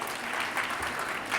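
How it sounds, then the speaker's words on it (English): An audience at a talk on startup founders gives a round of applause, a dense steady wash of many hands clapping together, moderately loud and heard on its own. "ask that we give Neil Dykman a big round of applause for hosting this series"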